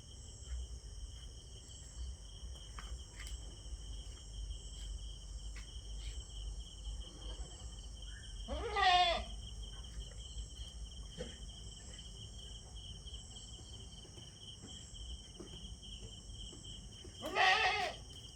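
Two short, clear bleats from crossbreed goats on a farm, spaced well apart, over a steady background of chirping crickets.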